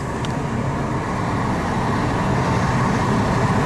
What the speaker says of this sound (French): C'est parti, j'accélère à fond.